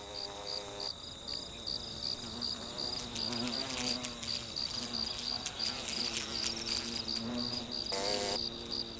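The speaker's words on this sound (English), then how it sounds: "They use their wings as fans, fanning cool air into the nest." Hornets fanning their wings at the nest entrance in summer, a close, continuous buzzing drone with shifting pitches as several insects hum together.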